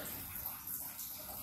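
Maple sap streaming steadily through gravity-fed sap lines outdoors, a soft continuous trickle and hiss at low volume, unbroken for the whole moment.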